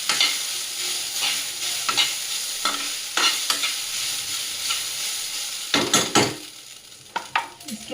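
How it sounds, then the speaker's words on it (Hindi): Sabudana khichdi stirred and roasted in a pan, a continuous close sizzle broken by repeated scraping strokes of a spoon, with busier clatter toward the end. "इसको तब तक चलाएंगे जब तक कि अच्छे से"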